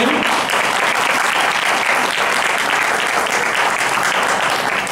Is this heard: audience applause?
yes